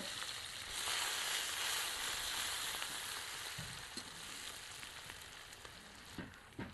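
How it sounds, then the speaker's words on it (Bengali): Chopped onion fries in oil with whole cumin seeds, giving a soft, steady sizzle and hiss with a few light stirring clicks, faint and continuous with no voices. "এখানে দিচ্ছি কুচিয়ে রাখা পেঁয়াজ দিয়ে একটু ভেজে নেব পেঁয়াজটা"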